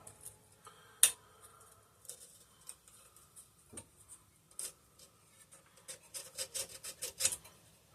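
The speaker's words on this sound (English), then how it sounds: "now I'm going to go in there with some sandpaper" Sandpaper wrapped around a points file scrapes against the points of an antique McCulloch generator recovered from a flooded basement, making faint, irregular rasping strokes with a few sharper clicks, close and quiet.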